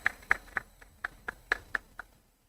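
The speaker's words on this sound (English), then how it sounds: "a clap for Sharon" An audience at a tech and sports innovation forum gives a short round of hand claps: about nine sharp, separate claps in a steady, quick rhythm. They are fairly near, then stop, leaving quiet.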